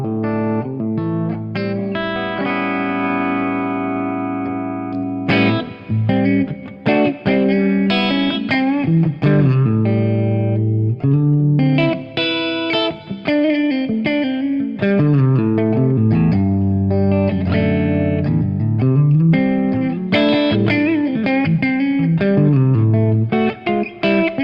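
Electric guitar through a Fractal FM3 using the Shiver Clean amp with reverb and compression, playing a long flowing clean passage of chords and melodic runs, loud and close with a lush reverb tail and no talking.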